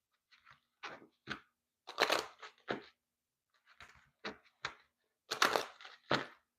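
Tarot cards are shuffled by hand in quick, crisp riffling bursts, grouped in two runs of several short rustles separated by a brief pause, quiet and close with no voices.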